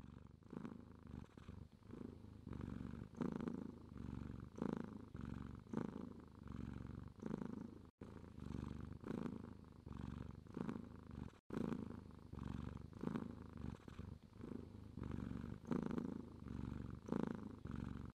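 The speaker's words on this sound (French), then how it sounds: "Le ronronnement d'un chat." A cat purrs steadily and up close, a continuous rumbling purr with a regular breathing rhythm of swells, with no talking over it.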